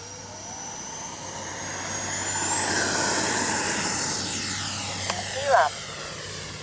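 A FlyFans L-39 Black Diamonds RC model jet whines past at a flying field, its rising turbine-like whistle swelling loudly as it passes overhead and then fading, with a brief sharp sound near the end.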